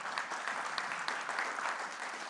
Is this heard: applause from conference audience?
yes